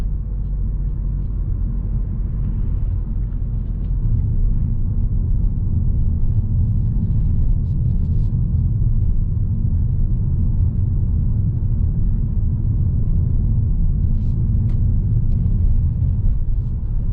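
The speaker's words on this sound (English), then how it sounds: "I'm gonna try accelerating now and driving to the highway." A 2019 Mazda 3 hatchback accelerating at night, steady deep engine and road rumble filling the cabin continuously, loud and even throughout with no talk.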